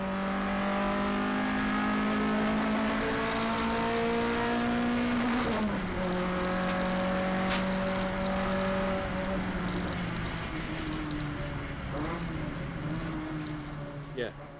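Modified Ford race cars roar continuously at close range, engines holding high revs with gear-change pitch drops and overlapping cars, a loud sustained racing drone.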